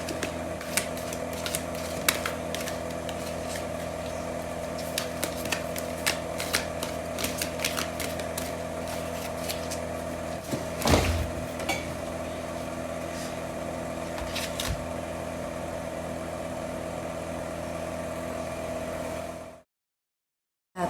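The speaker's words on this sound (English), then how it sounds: "I'm gonna pull out a card from the Fairy Tarot deck" Cards from a Fairy Tarot deck are handled and shuffled in rapid, close, crisp clicks and flicks, with one louder rustle midway. Near the end the sound cuts to silence.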